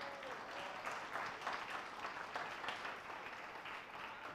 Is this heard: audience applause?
yes